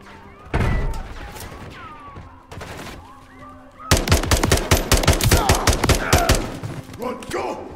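Rapid automatic gunfire from Call of Duty Modern Warfare 3 on Xbox, with sparse shots early and then a dense, loud burst of repeated rounds in the second half, under brief talk.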